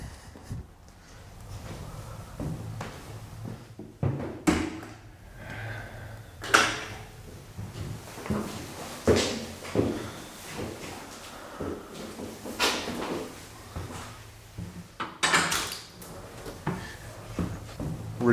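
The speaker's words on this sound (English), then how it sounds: "Really heavy doors." Heavy metal doors on a decommissioned oil rig creak, scrape and thud shut repeatedly in an echoing interior, with clanks and footstep-like knocks spread over a long stretch and no talking.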